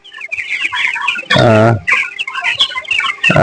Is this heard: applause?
no